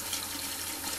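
Hot water runs steadily into a tray, a continuous close gush of filling liquid with no voices.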